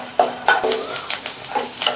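Coconut pieces roasting in ghee crackle and sizzle softly while a spoon stirs them in a pan, making several short scraping strokes close by.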